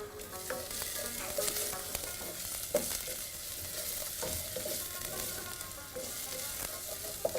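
Onions fry in a pan on medium-low heat, giving a continuous close sizzle with occasional stirring scrapes and small pops throughout.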